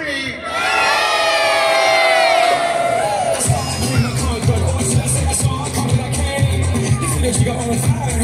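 An outdoor crowd at a balloon event in Prosser, Washington shouts "wave" together in one loud, sustained collective cry, which then breaks into scattered cheering, whoops and excited babble.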